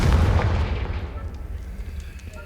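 A Confringo fire spell explodes in the Hogwarts Legacy video game: a loud, deep, rumbling blast that hits at once and then rolls off into a long fading roar, alone without talk.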